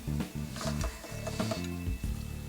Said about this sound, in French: Et passez simplement votre pâte dans la machine.